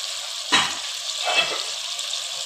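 Masala gravy with chicken simmering in a pan, a soft steady sizzle with two brief louder bursts of bubbling or stirring, close and moderate in level, no talk.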